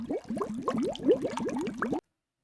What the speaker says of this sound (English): You can hear that sounds like a bubbling cauldron.